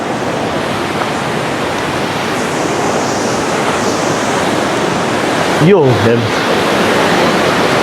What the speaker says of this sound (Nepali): ब्युटिफुल खोला बगिरहेको छ है मिलिङ खोला